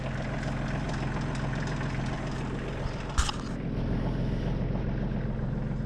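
A tractor engine idles with a steady low rumble, interrupted by one brief sharp knock partway through.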